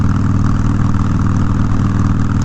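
A Suzuki DRZ400 motorcycle with an aftermarket exhaust runs steadily close by, a loud, throbbing single-cylinder rumble with an even pulsing beat throughout and no talk.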